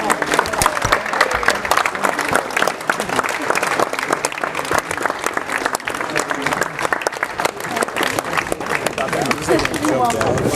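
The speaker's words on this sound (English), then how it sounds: "Let's give a round of applause." School board meeting attendees give a sustained round of dense applause, many hands clapping loudly and continuously with crowd murmur mixed in throughout.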